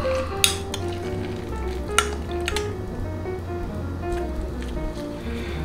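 A spoon stirs chaffle batter for mushroom and Swiss stuffed chaffles in a bowl, giving a soft, wet churning texture broken by a few sharp clinks of metal against the bowl.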